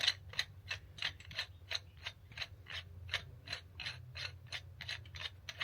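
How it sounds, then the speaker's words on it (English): A car oil filter cutter, essentially a large pipe cutter, is turned around the oil filter of a Hemi engine with about 300,000 miles. It gives a close, regular series of sharp ratcheting clicks at a steady rhythm. "filter cutter, basically a big pipe cutter"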